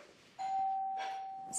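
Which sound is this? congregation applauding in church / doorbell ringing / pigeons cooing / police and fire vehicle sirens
doorbell ringing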